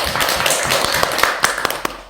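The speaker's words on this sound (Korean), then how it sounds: "박수." Audience hand clapping during a Korean Buddhist lecture on the Lotus Sutra: a short burst of brisk, close claps with several sharp accented slaps over a dense patter, fading out after two seconds.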